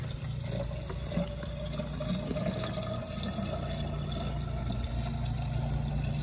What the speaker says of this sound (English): we need to get a little bit of water so it doesn't run too hot